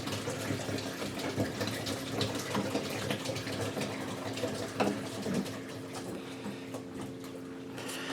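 Water circulates in a jellyfish aquarium tank, a steady soft rushing and trickling flow with a faint pump hum, quiet and continuous without speech.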